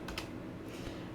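Quiet computer keyboard typing on a Linux machine, a few soft key clicks in a short burst over steady low background hum, no voices.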